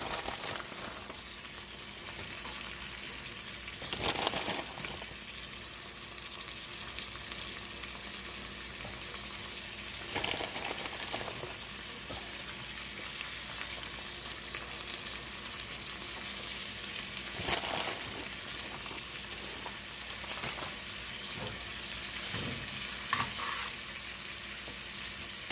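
Three onions fry in a pan with a constant close crackling sizzle, broken by occasional louder bursts as they are stirred, with no talk.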